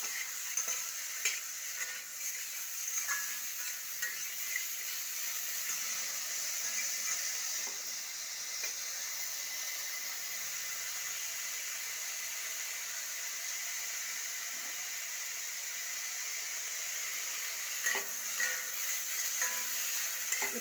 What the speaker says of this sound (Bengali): এটা এখন 2-3 মিনিট আমি এইভাবে একটু ভাজতে থাকবো